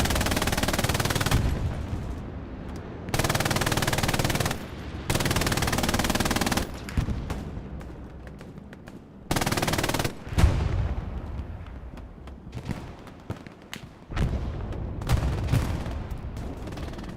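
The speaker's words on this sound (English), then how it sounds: "Molaba setting up the MG42 right here on the bridge" Long bursts of MG42 machine-gun fire from a bridge position in Hell Let Loose during a large competitive match at Carentan, loud rapid rattling in several sustained strings with distant gunfire and booms between them.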